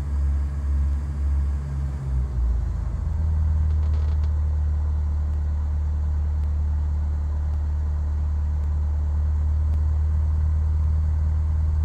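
Aircraft engine idling on the ground during pre-flight checks ahead of an IFR flight, a loud, steady low drone that runs without a break, with a slight shift in tone in the first few seconds.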